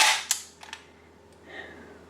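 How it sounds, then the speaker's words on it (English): The bolt of an airsoft UZI MP2A1 drops with a sharp metallic snap, followed by a few small clicks and a faint rattle, close and otherwise quiet. "so when you drop the bolt"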